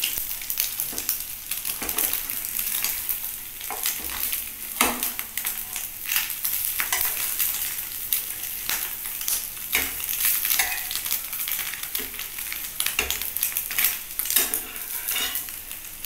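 A knife cuts folded raw papaya into small pieces, making irregular, crisp taps and chops against a board at close range, with faint kitchen clatter and no talk.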